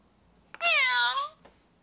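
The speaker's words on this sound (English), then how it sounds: "That was a cute little meow from the kitty kitty." A cat gives a single clear, drawn-out meow lasting under a second, close and fairly loud against a quiet background.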